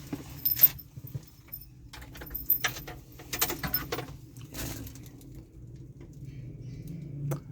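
Car keys jingle in short, scattered bursts inside a Mitsubishi L300 van, close by and fairly quiet, over a low steady hum.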